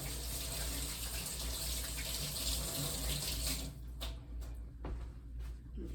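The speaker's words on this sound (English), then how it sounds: "Let me just rinse my hands real quick, get them dry." Hands are rinsed under a running kitchen tap, a loud steady gush of water that cuts off partway through, leaving faint handling noises.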